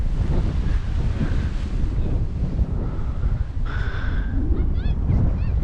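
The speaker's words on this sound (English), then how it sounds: "Fortunately, it's got quite windy on the hill." Strong wind on a hilltop buffets the microphone in a constant roaring rush, with faint chirping birds breaking through near the end.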